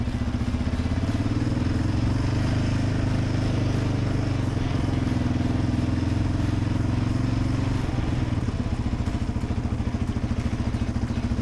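A Yamaha Raptor 700R four-wheeler engine drones loud and steady while riding in third gear near a lake in Chicago, with a constant rumble and rattling clatter throughout.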